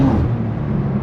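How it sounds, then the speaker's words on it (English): A BMW M2 G87 inline-six engine at speed on the Autobahn, a steady, fairly loud drone heard from inside the car for about a second, with no talk over it. "sounds like a proper inline six. It really brings the sound to the next level."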